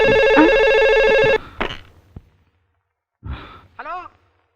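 A telephone rings with a loud, electronic warbling tone for just over a second, then stops; sighs and breaths follow with short vocal sounds in a quiet room.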